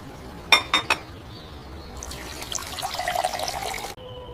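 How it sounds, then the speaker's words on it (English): Dishes rinsed with water at a kitchen sink, with three quick clinks of dishware, then a stream of running water that grows slightly louder before cutting off abruptly near the end. "I rinse the dishes with water."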